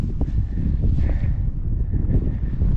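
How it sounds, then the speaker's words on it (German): Wind gusts across a mountain summit in the Berchtesgaden Alps, a steady loud rush buffeting the microphone with low rumbling throughout. "Und der Wind bläst ein bisschen."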